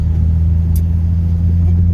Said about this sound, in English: It's kind of bogging.